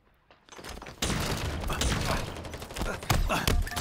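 Rapid bursts of gunfire in Halo Infinite multiplayer crackle steadily after a quiet start, with a few heavier thumps, dense and close.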